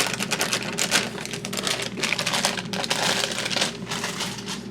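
Dry carrot cake box mix pours into a bowl, a close, continuous rustling and crinkling with bursts of papery shaking as the powder tumbles out.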